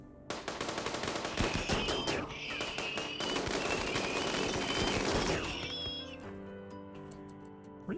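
Automatic turret fire in the RimWorld colony game rattles in dense, rapid bursts for several seconds, loud and continuous, then drops away into a low tonal game drone.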